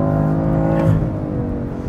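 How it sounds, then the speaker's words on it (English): BMW F80 M3 saloon with carbon ceramic brakes driving on the Portimao circuit, a loud, steady in-car engine drone with layered harmonics that shift slightly in pitch as revs change, close and continuous with no talking. "The car I'm in is an M3"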